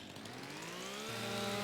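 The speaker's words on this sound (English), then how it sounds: "So glad I can run with a chainsaw now." A chainsaw in Farming Simulator 25 runs steadily at high revs, a loud, continuous buzzing drone that rises slightly in pitch toward the end, with no voices.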